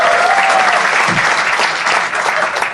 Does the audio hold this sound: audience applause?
yes